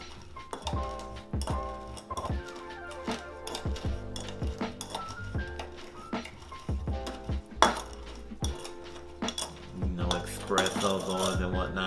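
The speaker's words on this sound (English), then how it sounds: "So you're gonna muddle your thyme." Thyme is muddled in a cocktail glass, with repeated knocking and grinding thuds of the muddler against glass mixed with clinks and clatter, close and busy throughout.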